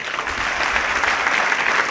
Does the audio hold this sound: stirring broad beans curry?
no